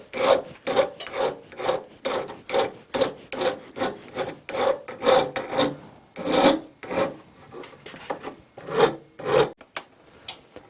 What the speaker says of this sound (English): So we can pull our stone out and do a little bit more filing on it.